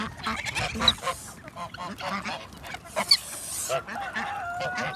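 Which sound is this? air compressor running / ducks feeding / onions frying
ducks feeding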